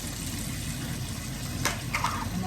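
Tap water gushing steadily into a pot for boiling, a constant rushing splash with a couple of brief clinks toward the end.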